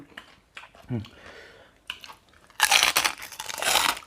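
Crispy pork rinds crunched and chewed close to the mic, with soft mouth sounds early on giving way to a loud, dense burst of crackling bites in the second half; no talking.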